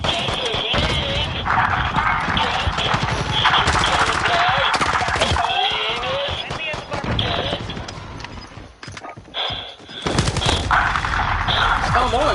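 Rapid bursts of video game gunfire crackle and rattle almost continuously, loud and dense, with someone talking heatedly over the shooting.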